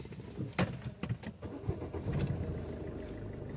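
A Suzuki Swift diesel car with a shorted wiring harness cranks and starts, a few sharp cranking bursts followed by the engine catching into a low, rumbling idle, close by with no talk.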